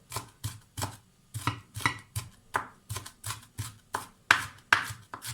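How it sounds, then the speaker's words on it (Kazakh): A knife chops meat for cutlets against a cutting board in a steady rhythm, about a dozen sharp close thuds spaced roughly half a second apart, with no talking. "Ерінбей қолдан осылай турай салған жөн көремін, сондықтан әр кезде осылай қолдан тураймын."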